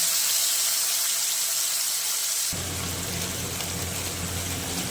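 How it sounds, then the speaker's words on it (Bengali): Spice water from rinsing a bowl pours into a hot pan with a bright hissing rush that shifts halfway through into a lower, rougher sizzle. "দিয়ে দেবো বাটি ধোয়া জল, মশলার জলটা।"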